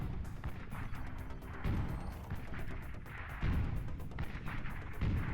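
Long-range artillery in the strategy game Beyond All Reason fires in repeated booming thuds with crackling impacts, several heavy shots landing at roughly regular intervals over a rumbling battle backdrop.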